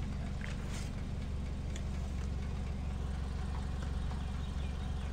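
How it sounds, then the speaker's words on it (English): A steady, even mechanical hum drones on without change, like a car's air conditioning running with the engine idling, no voices. "The AC is still running during this time."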